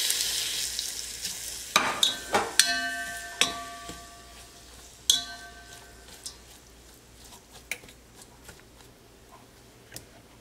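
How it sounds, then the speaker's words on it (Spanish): Julienned onion and grated pepper sautéing in a pan, a soft low sizzle with scattered clicks and stirring knocks, spaced irregularly over a steady hiss. "Y la cebolla en juliana. Esto lo vamos a poner a sofreír."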